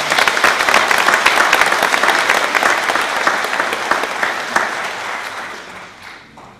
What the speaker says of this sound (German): Wir wollen für Sie besonders Hände klatschen und herzlich willkommen.